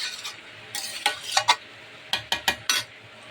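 Chicken curry with potatoes being stirred and fried in a pot over a wood fire, heard as a string of sharp spoon scrapes and clanks against the metal over a low sizzle.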